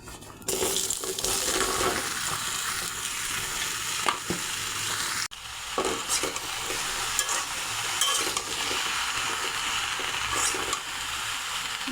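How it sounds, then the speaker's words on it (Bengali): Chopped bottle gourd is tossed into hot oil left from frying hilsa fish and sizzles loudly, a steady close hiss with spatters and occasional knocks of stirring in the pan, briefly cut off once partway through. "এই তেলে দিয়ে দেবো কেটে রাখা লাউ,"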